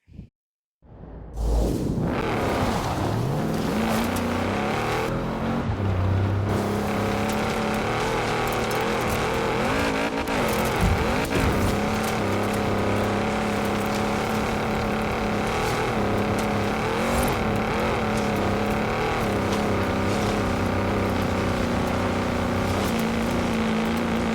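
Engine of a Lamborghini Urus in Forza Horizon 4 drones continuously during an off-road hill climb, a sustained loud revving with shifting pitch and occasional whooshes, no talking.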